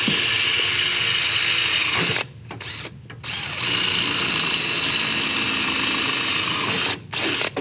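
A power drill whirs loudly and continuously, stopping briefly a few times for short pauses before spinning up again, until the drill bit breaks.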